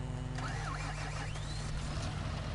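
Tractor engine idling steadily in a PS4 farming game, a low constant hum with whining tones and a sweeping mechanical note drifting above it, no talking.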